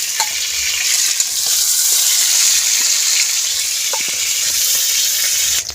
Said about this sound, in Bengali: পটল ভাজা হয়ে গেছে নামিয়ে নেবো এক এক করে।